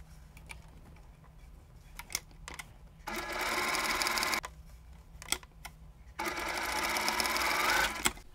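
A sewing machine stitches the corners of a quilt block in two steady bursts of rapid whirring, separated by small clicks and handling noises, close by and without talk.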